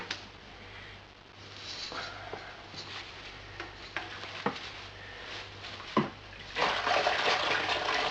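A mesh grain bag is lifted out of homebrew Schwarzbier wort, with faint drips and trickles and a few soft knocks, then a louder rush of liquid draining back into the pot near the end; no talking.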